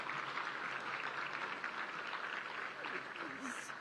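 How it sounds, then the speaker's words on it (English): Dense, steady audience applause fills a civic hall during a city's State of the City address, a continuous wash of many hands clapping at a fairly even level throughout. "Would you join me in a round of applause?"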